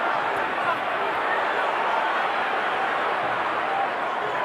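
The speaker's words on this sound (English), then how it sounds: "The crowd going absolutely crazy." A boxing crowd roars without a break during the Floyd Mayweather vs Victor Ortiz fight, a loud, dense wall of cheering that stays level for several seconds.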